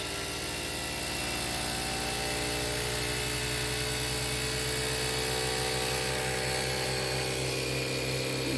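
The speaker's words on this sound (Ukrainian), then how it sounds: "двигуни йдуть в рознос." Electric motors rated for 21 volts run away to high speed after their load is disconnected, a loud continuous whine with rising harmonic tones and a steady mechanical hum, alone without talk.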